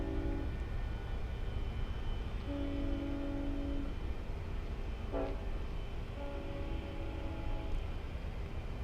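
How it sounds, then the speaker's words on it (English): A Long Island Rail Road train horn sounds in distant blasts near a semi-private crossing, a long one then another after a pause, over a constant low rumble of the moving train. "he just sounded the horn"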